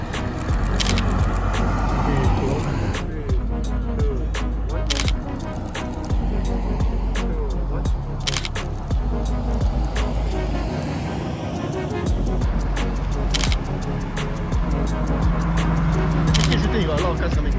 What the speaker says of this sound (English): You got a lot of cars coming.